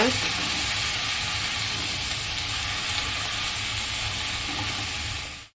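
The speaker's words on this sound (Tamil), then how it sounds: "எல்லா காயும் நல்லா மிக்ஸ் பண்ணி விட்டுக்கோங்க." Chopped vegetables stirred in a hot pan while cooking sambar rice give a steady, close sizzle that runs evenly throughout and then cuts off abruptly at the end.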